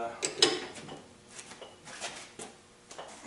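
Metallic clicks and ratcheting knocks from tightening the jaws of a Chinese-made 4-jaw lathe chuck in a home shop, a sharp cluster of clinks early on followed by sparser, softer taps, fairly close.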